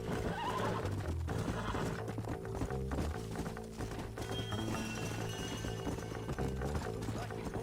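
Horses whinnying alongside clip-clopping hooves in the video game Red Dead Redemption, heard close over a busy, loud game soundtrack.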